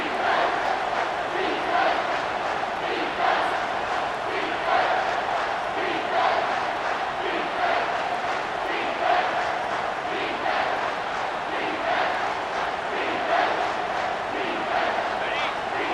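A football stadium crowd roars continuously and loudly on a third down, a dense wall of voices with swelling surges, and a commentator talks over it.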